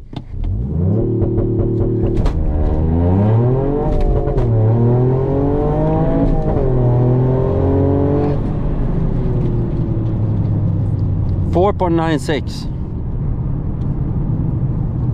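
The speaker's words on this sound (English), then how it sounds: "the cracks from the exhaust system" A Toyota GR Yaris engine revs hard through rising gears with a rasping exhaust and a few sharp pops, loud and close, as a voice speaks briefly.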